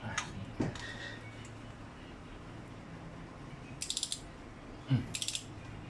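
A wrench ratchets while Altis Duo ZR cylinder head bolts are tightened, giving two short bursts of rapid clicks spaced apart, with faint knocks and handling noise between them.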